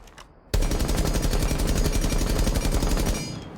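Rapid automatic gunfire from a rifle fitted with an extended barrel in Rainbow Six Siege, a loud sustained burst of evenly spaced shots that starts abruptly after a short quiet moment and runs for about three seconds before tailing off.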